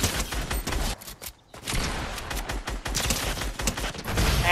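Gunfire in a video game: dense rapid bursts of loud shots continuing almost throughout, with one brief pause, sounding like sustained automatic fire.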